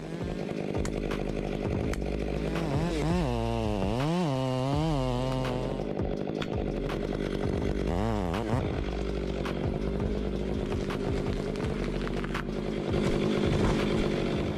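A MIS 500E chainsaw cutting an old pine tree drones loudly and continuously, its engine pitch swooping up and down several times as it revs, steady throughout.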